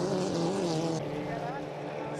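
A 2.5 litre racing boat rounds the final turn of a race at Long Sault, its engine a steady droning roar heard from a distance under a commentator's voice.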